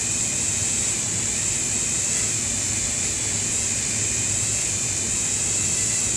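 A Dremel rotary tool grinds carbon buildup off an engine cylinder head with a loud, steady, high-pitched whine and a constant hiss that runs unbroken from start to finish.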